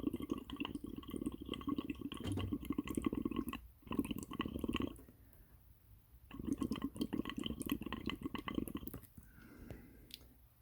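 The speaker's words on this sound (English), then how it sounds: "I'm going to blow through the top to blow the bubbles and see if it changes colour." Combustion leak tester fluid bubbling on a Mini R engine as air is blown through the top, giving close, wet gurgling bursts that stop briefly around the middle and then resume.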